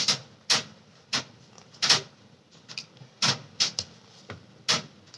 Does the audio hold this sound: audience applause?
no